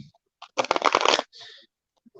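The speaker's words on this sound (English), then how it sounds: "the cards are really wanting to be shuffled" A deck of playing cards being shuffled at work: one dense riffling burst of crisp, rapid flutter lasting under a second, close and fairly loud, with brief softer handling sounds before and after.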